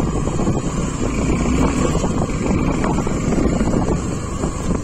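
A Suzuki V-Strom 250 motorcycle rides off-road, its steady engine drone mixed with heavy, constant wind buffeting on the microphone throughout.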